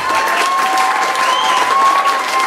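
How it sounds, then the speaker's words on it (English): Concert audience applauding for a baritone saxophone jazz band, a dense steady wash of clapping holding at an even level throughout. "give them another round of applause"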